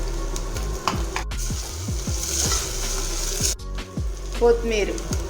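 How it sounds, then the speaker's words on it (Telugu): Ginger garlic paste fries in hot oil for a Telangana-style mutton curry, giving a steady sizzle with repeated stirring scrapes and knocks of a spoon in the pan throughout. "అల్లం వెల్లుల్లి పేస్ట్ ఇట్లా ఆయిల్లో వేసి బాగా కొంచెం ఫ్రై అయ్యే వరకు కలుపుకోవాలి"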